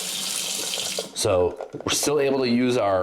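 Water from a Delta touchless kitchen faucet hisses steadily into a sink while someone talks over the stream.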